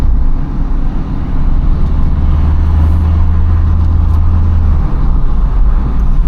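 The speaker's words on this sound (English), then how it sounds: "I will downshift here, slow down a little bit" A 2013 Opel Corsa diesel with a manual gearbox drives a Greek mountain road, its engine a steady, close, low drone with road rumble and no voices.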